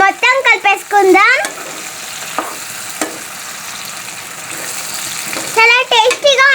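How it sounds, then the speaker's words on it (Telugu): Ginger garlic paste is stirred into capsicum curry frying in a pan, giving a soft sizzle with scraping stir strokes, while someone speaks at the start and end. "ఇప్పుడు ఈ అల్లం వెల్లుల్లి పేస్ట్ ఈ కర్రీకి అంటేలాగా మనం మొత్తం కలిపేసుకుందాం."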